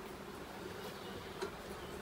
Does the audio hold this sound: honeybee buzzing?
yes